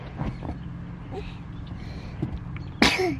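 A single sharp sneeze from a small child on a boat, close and brief near the end, after a stretch of low engine hum and soft sounds.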